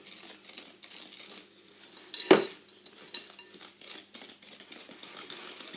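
Sifted flour and baking powder being mixed into apple and walnut cake batter, soft close scraping and tapping of a utensil against a bowl with one sharper knock midway, no voices.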